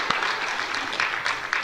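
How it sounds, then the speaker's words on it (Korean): A church congregation claps in thanks during a Sunday worship service, a steady, moderately loud spread of many hands with a few sharper claps poking through. "감사의 박수를 드리겠습니다"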